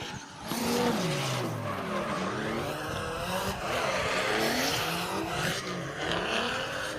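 Drift cars at a drift event roar continuously with engines revving and tires squealing through long slides, loud and sustained with pitch swings as they pass.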